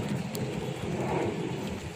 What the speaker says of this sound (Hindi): बहुत जोर वर्षा पड़ुची बहुत जोर।